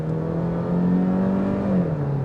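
A 2025 Genesis G70 2.5T sedan engine revs in sport mode, a steady droning exhaust note held high for about two seconds with a slight dip near the end, fairly loud and with no talk over it.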